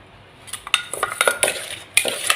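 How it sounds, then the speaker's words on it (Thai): Utensils tossing a spicy fresh shrimp salad with fish sauce and palm sugar in a bowl, giving close, bright metallic clinks and scrapes in irregular bursts without talk. "คลุกเคล้าให้เข้ากันจ้ะ"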